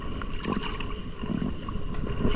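A small fishing boat pushes through waves against the swell, with a steady close rush of water and engine hum that swells slightly toward the end.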